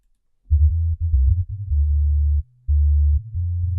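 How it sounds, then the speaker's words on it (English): A clean sub-bass sine tone from an EXS24 sampler in Logic plays as a deep, smooth hum in a few sustained notes with brief gaps, loud and alone. "Just uses a great sine wave."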